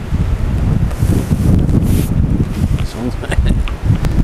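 Wind buffets the microphone continuously at a cold-water lake margin while a fish is being played, a loud, rough rumble throughout with some rustling.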